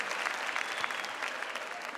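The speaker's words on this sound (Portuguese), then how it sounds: "Vamos aplaudir mais uma vez" Audience applause at a live Christian music show at a camp event, steady dense clapping filling the whole moment, fairly loud and continuous with no voice over it.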